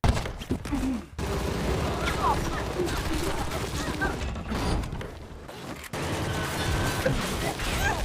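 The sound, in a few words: gunfire in a film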